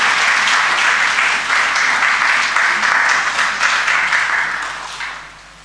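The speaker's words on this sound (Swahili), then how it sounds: "tusimame wote tupige makofi kwa furaha kubwa kabisa" A large audience at the Prime Minister's launch of electronic visa and residence permit services bursts into sustained, loud applause that carries on steadily before fading out at the end.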